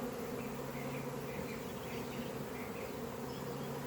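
Steady, dense buzzing of many honeybees at an open hive in an apiary, a continuous droning hum with no pauses and no voices.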